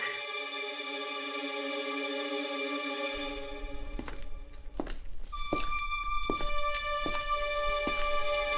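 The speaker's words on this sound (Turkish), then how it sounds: "Ayak sesi duydum ben sanki ya." In the Roblox game Brookhaven, a steady hum gives way to a series of dull, evenly spaced thuds, like footsteps on a hard floor inside a house, with some tonal ringing in between.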